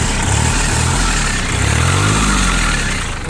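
A Japanese mini tractor's engine idles right after starting, a loud, steady, close-up chugging drone with a low rumble that barely varies over a few seconds.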